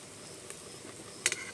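Ripe jackfruit fritters frying in hot oil, a soft steady sizzle with a few faint clinks of stirring, quiet and close, with a brief brighter crackle near the end.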